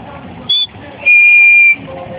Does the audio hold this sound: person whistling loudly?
yes